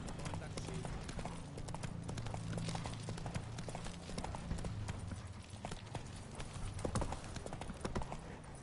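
Roach, a horse in the video game The Witcher 3, gallops with steady, rapid hoofbeats heard faintly under quiet voices and background game sound.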